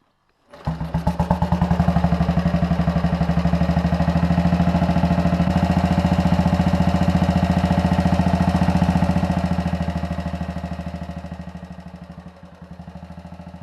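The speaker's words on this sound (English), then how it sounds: "turn the headlight mounted switch for coil ignition, check illumination of the telltale lamp on the opposite side, and give the starter a firm push" A vintage motorcycle with coil ignition and a push starter fires up and settles into a steady, loud idle, its rhythmic single-engine thumping continuing close by throughout before easing slightly near the end.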